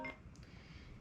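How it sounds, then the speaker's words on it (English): A phone's incoming-call alert tone, a short electronic beep pattern heard faintly and alone, with no talk. "that is not my timer, that's a phone call"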